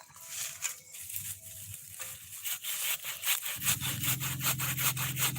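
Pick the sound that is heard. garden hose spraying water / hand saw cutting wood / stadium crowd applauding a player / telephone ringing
hand saw cutting wood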